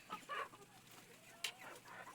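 Chickens including a rooster at feeding time, where banana has been set out: faint, soft clucks and short calls scattered over a quiet background, close by but low in level.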